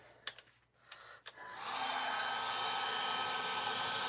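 A heat gun kicks on after a few sharp clicks and knocks, then blows a steady, loud rush of hot air without letting up, close by at a workbench where RC car parts are being worked on.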